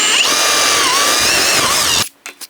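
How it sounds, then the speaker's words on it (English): A power drill whines loudly and steadily for about two seconds, then cuts off, followed by a few quiet knocks. "I'm gonna drill a hole in this one"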